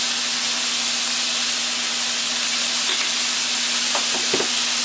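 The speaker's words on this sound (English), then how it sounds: "Keep stirring these every so often. We'll give them a stir" Sweet potato home fries sizzle steadily in a pan with a constant close hiss and a low hum beneath, with a few brief scraping clicks from stirring near the end.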